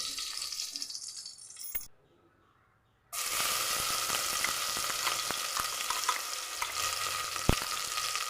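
Sunflower oil and Dalda heat in a pressure cooker for chicken biryani, crackling and sizzling with faint stirring clicks; the frying cuts out for about a second in the middle, then resumes steadily.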